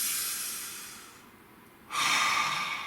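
A tarot reader draws a long, slow breath, a soft airy hiss that fades gradually, then a fuller, louder exhale or inhale surges in near the end, close and alone with no talk.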